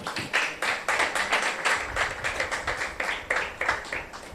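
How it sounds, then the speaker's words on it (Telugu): A church congregation claps their hands together in a steady rhythmic beat, roughly three claps per second, close and clear, with no talking over it. "చప్పట్లు కొట్టాలి."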